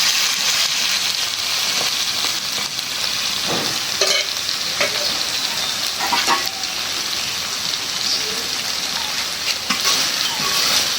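Food frying in oil in a pan sizzles and crackles steadily, a dense hiss broken by occasional louder pops and stirring scrapes, with no voices over it.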